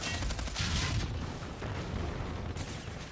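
Pistol fire in the shooter game Call of Duty: Infinite Warfare comes in rapid bursts of loud, close, sharp shots, with heavier clusters early and again near the end over a busy game backdrop.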